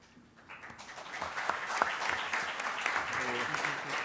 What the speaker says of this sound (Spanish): Se adelantaron al aplauso